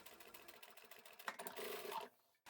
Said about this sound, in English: I do like to go slow just so that I can make sure that I'm sewing nice and straight with this contrast coloured thread